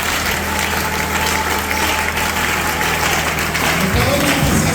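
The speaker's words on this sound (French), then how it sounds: "Nous acclamons très fort pour Jésus" A church congregation claps and cheers loudly and continuously for Jesus, a dense wash of hands and voices with a droning tone underneath.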